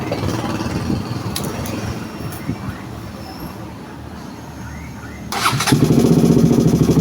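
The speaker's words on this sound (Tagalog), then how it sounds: "Paanda rin mo natin ang kanyang makina." Background noise and faint speech-like sounds, then about two-thirds through a KTM Duke 200 motorcycle engine turns over and catches, settling into a loud, steady idle.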